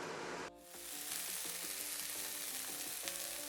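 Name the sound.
food frying in a pan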